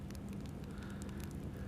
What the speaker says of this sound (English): There's nothing but the crackle and pop of the torches.